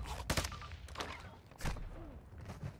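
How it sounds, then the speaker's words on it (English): Gunfire in the Call of Duty DMZ video game on Ashika Island, several quiet, sharp bursts of shots at irregular intervals, distant-sounding over a low background. "There's shots."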